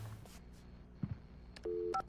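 Telephone dialing on a phone behind a counter in the video game Alan Wake: a few faint clicks, then short steady keypad tones near the end over a quiet background.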